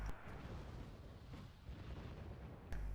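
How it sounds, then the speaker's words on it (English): Distant artillery and mortar fire in the video game Wargame: Red Dragon, a low rumbling roll of muffled impacts that stays faint throughout, with a sharper thump near the end. "the mortars are hitting the buck and the artillery"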